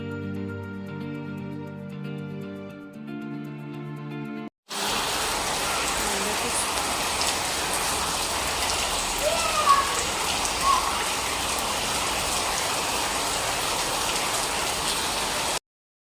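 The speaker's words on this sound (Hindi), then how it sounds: "7:30 से 8 बजे का टाइम था जब इतनी तेज़ बारिश हो रही थी" Heavy rain pours steadily as a loud, dense hiss after a short stretch of music, continuous and close, with no talking.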